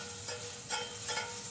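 Cumin and thinly sliced onion frying in a pan in Delhi-style Indian cooking, a steady close sizzle with soft crackles and a couple of brief stirring swells, no voices.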